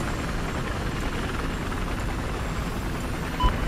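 A helicopter in the video game Battlefield 4 drones steadily with loud, continuous rotor and engine noise throughout, broken near the end by one brief thump.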